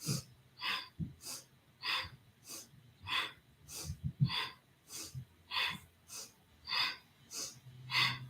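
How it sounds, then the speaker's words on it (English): A person breathes audibly in and out in a slow, even rhythm during a spine flexibility exercise, about a dozen soft close breaths with light body movement underneath. "Inhale, exhale, inhale, exhale."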